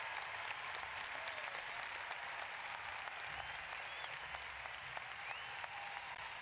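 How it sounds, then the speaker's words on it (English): A large crowd applauds steadily at the 2010 FEI World Equestrian Games after a dressage phase, a dense, continuous wash of clapping with no letup, heard at a distance across an arena. "a huge response from the crowd here at these All-Tech FEI World Equestrian Games"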